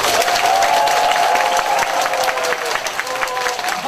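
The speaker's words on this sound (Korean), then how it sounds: "박수 시작" A seminar audience breaks into brisk group clapping, a dense, loud patter of many hands with a faint tonal line running beneath it and voices mixed in, easing slightly toward the end.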